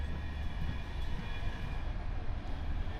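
Inside a new Polish Express Intercity train, a low steady rumble of wheels on track mixes with a faint high electrical whine, continuous and moderately quiet, as heard from a passenger seat.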